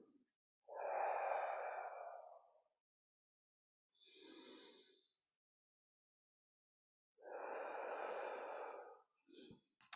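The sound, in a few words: breathing, inhaling during movement exercise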